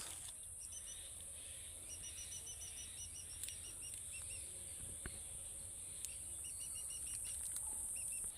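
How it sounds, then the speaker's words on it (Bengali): Wild birds in a forest give short, faint chirping calls in scattered bursts over a steady high insect-like drone and low background rumble, with no talking. "কিছু বন্য পাখির কান্না শোনা যাচ্ছে চিচির মেচির"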